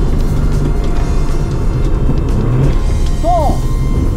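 A Nissan Laurel engine drones steadily and loudly from inside the car at Honjo circuit during heel-and-toe driving practice, a continuous close rumble with brief rising notes near the end.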